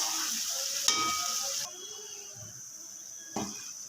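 Spice masala for a rohu fish curry fries in a pan, hissing loudly at first and then settling to a softer sizzle, with a couple of sharp stirring clinks.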